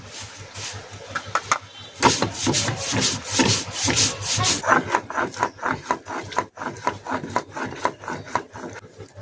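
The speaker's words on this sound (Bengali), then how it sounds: "পোস্তটা এখন বেটে নেব" Washed poppy seeds ground into paste on a grinding stone, a steady run of close, rough rubbing strokes that rise and fall in quick rhythmic bursts with no talking.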